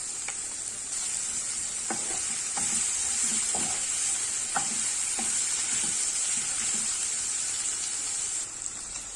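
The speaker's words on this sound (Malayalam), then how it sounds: "പച്ചമണം മാറുന്നത് വരെ നന്നായിട്ട് ഫ്രൈ ചെയ്യണം." Chicken curry masala with crushed curry leaves and tomato fries in a pan, giving a steady, close sizzle throughout while a spoon stirs and scrapes in repeated soft strokes.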